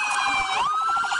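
A close police siren sweeps upward in pitch, then settles into a fast warble, loud and continuous.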